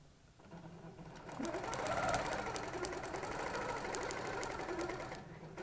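A longarm quilting machine stitches a bag in a quiet room. A rapid, even mechanical chatter starts after a short silence and holds steady for several seconds before easing off.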